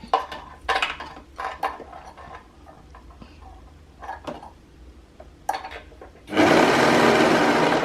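Sewing machine stitching stretchy cotton lycra fabric for pants, heard as short separate bursts of stitching in the first six seconds, then a loud steady run of continuous sewing to the end.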